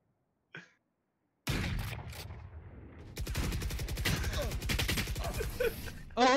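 Gunfire in the video game Valorant bursts in suddenly after a brief blip: a loud, rapid fusillade of shots that keeps rattling on with clicks and hits to the end.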